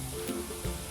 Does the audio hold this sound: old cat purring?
no